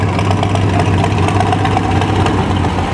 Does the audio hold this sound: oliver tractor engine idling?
yes